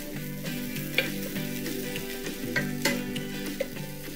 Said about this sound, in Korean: 여기에 해바라기를 두르고 취나물을 넣어서 살짝 볶아줍니다